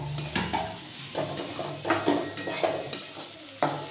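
Chopped tomato is stirred into boiled vegetables in a pan, with repeated scraping, clattering spoon strokes against the metal in uneven bursts over a soft sizzle, close and without talk.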